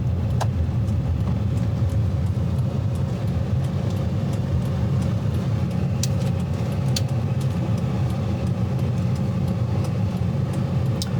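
A car on a driving assessment route moving at low speed through a U-turn, engine humming steadily with road rumble and a few faint clicks over it, close inside the cabin.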